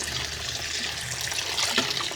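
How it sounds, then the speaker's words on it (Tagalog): Saba bananas being rinsed in water, with a steady splashing and trickling wash close by, alone and without talk, rising briefly near the end. "hugasan natin bago natin lutuin ang ating saging na saba"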